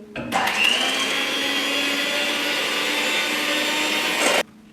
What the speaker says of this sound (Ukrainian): Збиваємо вершки.